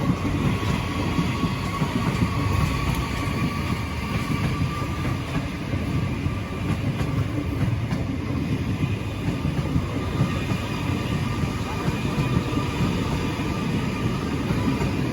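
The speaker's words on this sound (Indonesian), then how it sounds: "Panjang juga nih kereta." A long train rolls past on a railway track near Tambun, a continuous loud rumble of wagons and wheels with faint clickety-clack that carries on steadily without any speech.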